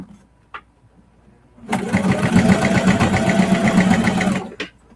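A sewing machine bastes clear vinyl in place on a project bag, running in one loud, steady, rapid stitching burst of about three seconds after a few faint clicks.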